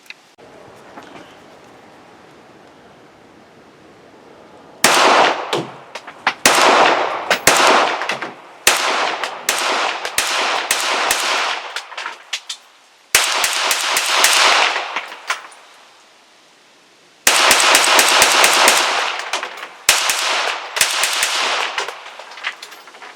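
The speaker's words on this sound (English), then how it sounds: "PM-63 full mag Silver Bear" A Polish PM-63 Rak pistol in 9x18 empties a full magazine of Silver Bear ammunition, loud rapid cracking shots in several dense bursts separated by short quiet pauses, harsh and close.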